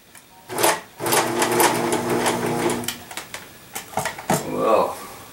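A Singer sewing machine run from its foot switch whirs loudly for about two seconds, then runs in shorter uneven bursts and stops.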